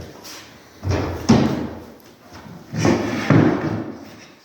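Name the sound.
wooden cabinet door being set aside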